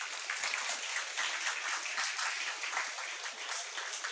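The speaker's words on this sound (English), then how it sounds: "Round of applause, everybody." An audience at a Class X achievers' felicitation ceremony applauds an award recipient, a dense, even wash of clapping that carries steadily from start to finish with no talk over it.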